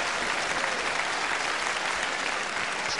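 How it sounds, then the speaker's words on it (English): Dense, continuous applause from an audience at a wrestling match, steady and fairly loud throughout the short stretch with no speech over it. "genuine applause for really excellent wrestling"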